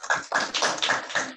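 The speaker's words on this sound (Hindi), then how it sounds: "मयंक दीप के लिए तालियां हो जाएं" Audience clapping for a student speaker at an inter-school public speaking competition, a crisp, evenly paced run of claps at a quick, steady rhythm, fairly close and moderately loud.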